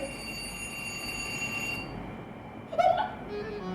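A washing machine alarm beeps indoors: a steady high electronic tone, then a brief louder, sharper beep near the end over faint background hum.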